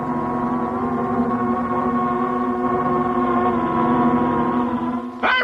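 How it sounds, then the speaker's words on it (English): In a cartoon, a swarm of invading insects makes a dense, continuous droning buzz. It holds loud and steady throughout, with a short squeak right at the end. "That's the sound of an insect invasion."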